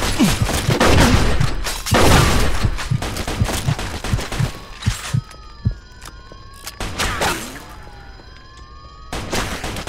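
Police gunfire in Mafia II, dense volleys of sharp shots crackling in rapid bursts, loud and close, with a siren wailing through the middle and later stretches.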